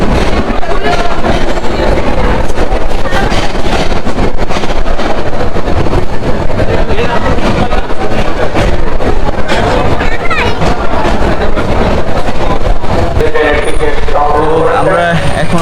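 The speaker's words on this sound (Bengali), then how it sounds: "6:23-এই কিন্তু আমাদের ট্রেনটি ছেড়ে দিয়েছে কমলাপুর রেল স্টেশন থেকে" The Parjotak Express passenger train runs out of Kamalapur railway station in Dhaka on its way to Cox's Bazar, giving a steady loud rumble and rattle throughout with people talking over it.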